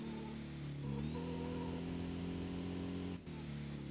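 Porsche 550 racing in Need For Speed Porsche Unleashed, a steady droning game engine note held at high revs with a brief dip near the end, loud and continuous.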